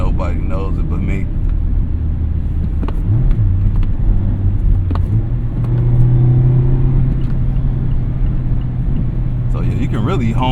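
A 2020 Mazda Miata RF with a manual gearbox is floored in sixth gear, giving a steady low engine drone with road rumble inside the cabin; a voice is heard over it at times.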